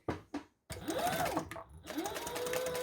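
Sewing machine stitching fabric for a wallet card slot: two quick taps, a pause, then steady whirring runs of needle stitching, fairly quiet and close.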